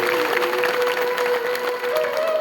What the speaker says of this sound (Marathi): एकदा या झाकीसाठी जोरदार टाळी वाजवा